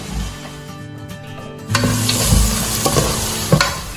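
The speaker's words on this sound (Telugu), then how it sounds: "మన ఉల్లిపాయలు, పచ్చిమిరపకాయలు కొద్దిగా వేగాయి. ఇప్పుడు అల్లం వెల్లుల్లి పేస్ట్ వేసేసుకుందాం." Onions and green chillies frying in a pan as ginger garlic paste is added for a village-style country chicken curry, a quiet sizzle that jumps louder with stirring scrapes and clatters.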